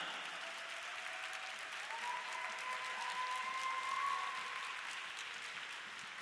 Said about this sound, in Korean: 큰 박수로 맞이하도록 하겠습니다.